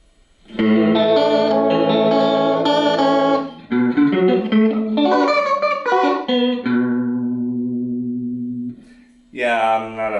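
A guitar played through a Roland JC-40 amplifier with its vibrato effect on gives sustained chords and single notes that waver in pitch, loud and close, ringing out alone.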